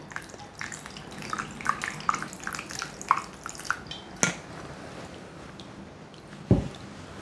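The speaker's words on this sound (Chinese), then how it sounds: "先把它冲洗一下，等下再来泡，因为那个菜脯很咸。" Salty preserved radish (caipu) being rinsed under running water, with light dripping and splashing, a few sharp knocks and taps, and a louder clatter near the end.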